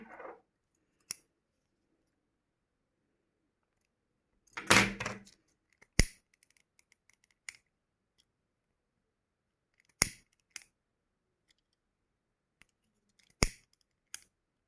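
Scissors snip the thread ends of a crafted shuttle-lace motif, a handful of sharp, isolated close-up clicks spaced seconds apart in otherwise near silence, with one brief rustle.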